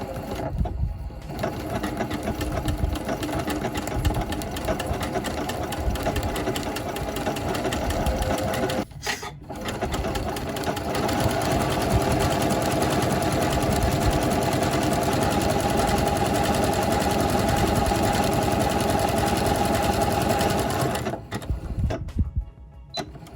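A sewing machine runs an overcast stitch along a raw fabric edge, whirring steadily and loudly with two brief pauses partway through and near the end, no voices.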